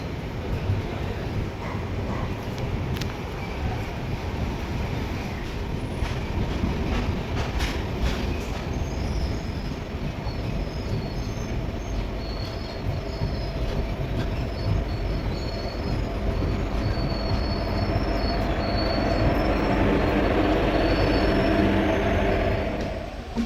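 Amaravathi Express hauled by a diesel locomotive rolls along steadily, a loud continuous rumble of wheels and carriages with faint rhythmic clacking and occasional squeals, no voices.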